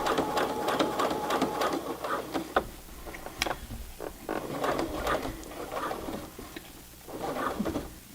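A Brother PC 420 sewing machine stitches a hem through heavy Levi's jeans in short, rapid bursts of mechanical chatter separated by brief pauses, close and clear.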